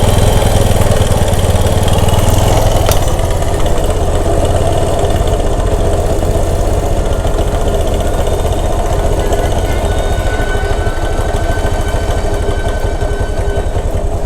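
A motorcycle engine idles steadily after being retuned, a loud, close, even putter with a fast regular pulse and no letup.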